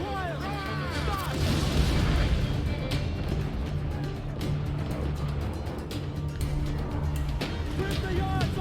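A sailing ship's cannons fire in Assassin's Creed IV: Black Flag. Dense, continuous booming barrages roll on without pause, mixed with crew voices shouting over the din.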